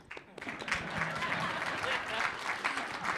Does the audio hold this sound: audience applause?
yes